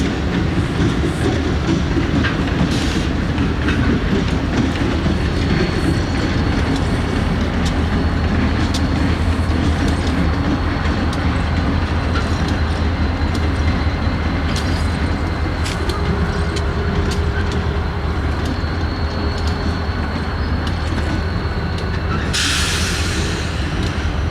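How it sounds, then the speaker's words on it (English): Freight locomotives on the old Pan Am Railways rolling into a rail yard after an overnight run: a loud, continuous low diesel rumble with rattling, clattering cars throughout and a brief hiss burst near the end. "we caught WAPO's power coming in from their overnight trip, heading into the yard"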